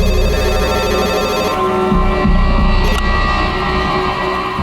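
A mobile phone left plugged in to charge rings with a loud, close electronic tone rich in steady harmonics, shifting pattern partway through, with no speech over it.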